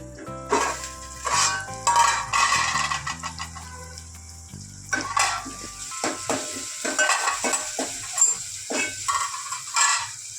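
Tomatoes and onion cooking in a pan for Kathiyawadi vagharelo rotlo, with steady sizzling and stirring scrapes over a musical background, near and moderately loud.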